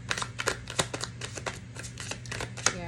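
A deck of tarot cards is shuffled up close in a quiet room, a quick run of crisp riffling flicks and soft slaps at an uneven, busy rhythm, over a low steady hum with no talking.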